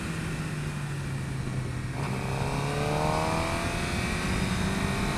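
A 2011 Suzuki GSX-R600 sport motorcycle accelerates hard, its engine note climbing steadily in pitch as it revs up, with loud continuous wind rush over the whole run and no talking.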